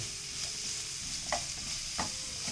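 Chopped red and green peppers sizzle steadily in a hot stir-fry pan for a spicy Shin Ramyun stir-fry, with a couple of soft clinks of stirring over the constant hiss.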